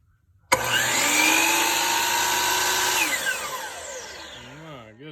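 A DeWalt 12-inch miter saw spins up with a sharp start, holds a loud steady high whine for a few seconds, then winds down with falling pitch as the blade coasts to a stop.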